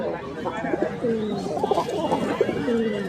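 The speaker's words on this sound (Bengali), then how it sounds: "দেখতে পাচ্ছেন কবুতরটা ভালো আছে" A pigeon coos repeatedly in a low, rolling rhythm at a busy village market, close by and mixed with background chatter of people talking.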